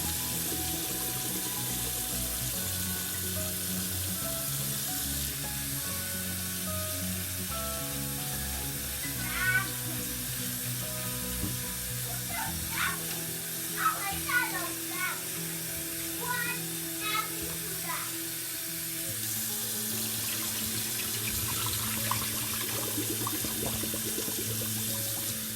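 Shredded potato rinsed under a running kitchen tap, a steady close wash of water pouring over the strands in a sink, with a few brief clatters and splashes partway through and occasional faint sounds over the flow.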